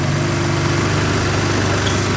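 A Toyota Supra engine with a new downpipe idles steadily and close by while warming up, a continuous low rumble with no change in pitch.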